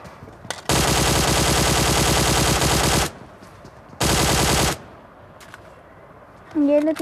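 Sustained machine-gun fire in a shooting video game: a long loud burst of rapid shots, a pause, then a second shorter burst, with a voice briefly speaking near the end.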